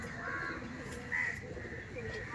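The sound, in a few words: pigeons cooing, Madras pigeons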